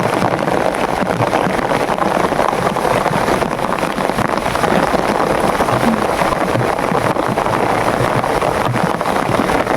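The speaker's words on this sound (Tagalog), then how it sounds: "Ulan, sobra." Heavy rain in the Philippines comes down hard and constantly, a loud, rough wash of noise mixed with gusty buffeting that never lets up.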